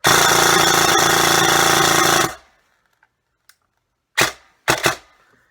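A G&G M4 airsoft rifle fires full auto in one loud, continuous burst lasting about two seconds, which stops abruptly. A few faint clicks follow, then two short, sharp mechanical bursts. No one speaks.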